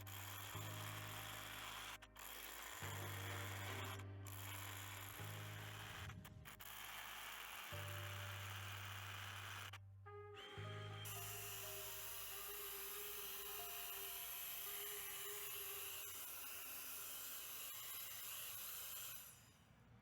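Masonry drill bit boring into rock, a power drill whirring in repeated bursts with pauses, then a longer sustained grinding run, close and fairly loud.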